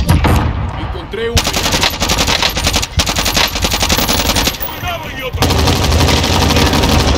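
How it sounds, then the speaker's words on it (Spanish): Rapid automatic gunfire from Call of Duty Warzone plays as loud, dense bursts of machine-gun shots broken by short pauses, with occasional voices in the game mix. "de aquí disparan"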